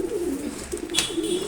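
Male racing pigeons coo in a low, throaty burble close by, with repeated rolling calls and a brief sharper sound midway, no voices present.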